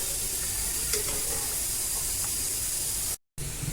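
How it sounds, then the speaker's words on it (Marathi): Bhatura frying in hot oil on a high flame, a steady broadband sizzle and hiss that runs throughout, with a brief dropout near the end before the sizzling resumes. "बटोरा तळत असताना गॅस मोठाच ठेवायचा त्याला छान दोन्ही बाजूनी सोनेरी रंग येईपर्यंत तळून घ्यायचं"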